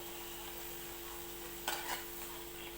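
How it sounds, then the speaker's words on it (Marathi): Thin potato slices for bhaji fry in a little oil over a low gas flame, making a soft, even hiss with one brief louder crackle partway through and no talking. "मस्तपैकी खरपूस अशा भाजत आले त्या तर मी गॅस कमीच ठेवलेला आहे"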